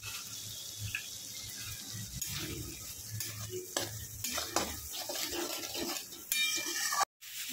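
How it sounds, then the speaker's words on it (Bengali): Spice paste for khichuri sautéing in a pan, a continuous sizzle with stirring scrapes throughout and a brief sharp break near the end. "মশলাটা কষানো হয়ে গেছে"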